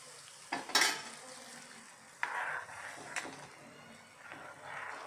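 A spoon works through carrot curry in a pan, giving a few sharp scrapes and clinks amid a soft simmering hiss, close and fairly quiet.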